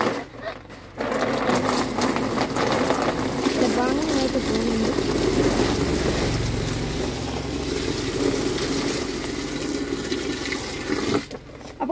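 Water poured slowly from a raised container into a small pond built for young catfish, a steady rushing splash with a continuous churning wash that starts abruptly and runs for about ten seconds before cutting off.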